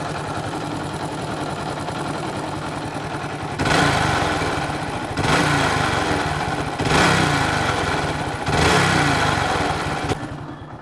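A goods vehicle engine with a failing crankshaft bearing runs loud and close, a steady rough drone that swells in four repeated revving surges with a knocking undertone, with no talking over it.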